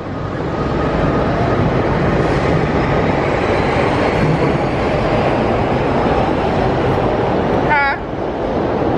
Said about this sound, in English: Gianna, this your first time getting on the train.